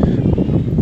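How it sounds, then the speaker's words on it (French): Wind buffets a microphone outdoors with a continuous low, rumbling roar that fluctuates slightly in strength, close and steady throughout. "c'est un peu de vent, parce que là je sens qu'il y a du vent"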